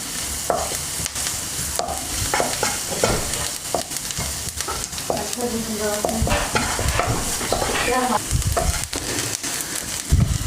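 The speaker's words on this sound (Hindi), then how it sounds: "पहले मैदे को अच्छी तरह भूनना है।" Maida flour being stirred and roasted in a pan, with a steady sizzle and repeated scraping strokes of a spoon, close and continuous with no talk.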